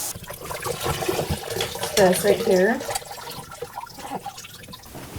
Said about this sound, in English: water is shooting out.